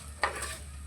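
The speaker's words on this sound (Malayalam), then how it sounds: "മല്ലിയെല്ലാം ഇപ്പോൾ ഇതാ പൊട്ടി തുടങ്ങിയിട്ടുണ്ട്." Coriander seeds roast in a pan for a Kerala-style fish curry, giving a brief, faint sizzle with a soft stirring scrape and light crackle.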